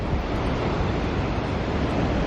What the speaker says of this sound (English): The water is pretty choppy out here